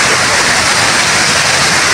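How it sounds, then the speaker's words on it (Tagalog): Floodwater swollen by heavy mountain rain rushes past in a loud, steady roar of churning water, continuous and close, with no break throughout. "palaki na ng palaki yung tubig. Dahil malakas yung bagsak ng ulan galing doon sa taas ng bundok."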